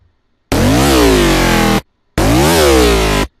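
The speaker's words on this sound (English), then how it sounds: "We want some modulation, some dirty growl going on" Two loud, dense bursts of a modulated dubstep growl synth, each about a second and a half long, with the pitch swooping down and back up inside each burst. Silence separates the bursts, and no voice is heard.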